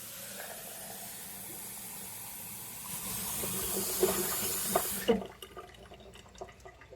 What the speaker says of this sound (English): we're gonna run the water for a second